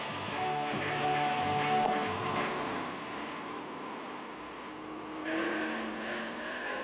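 A gas class coupe and a Class A supercharged coupe on a 1964 drag strip time trial, engines roaring with rising and falling rev tones, a second surge of power toward the end, heard through dated, muffled sound.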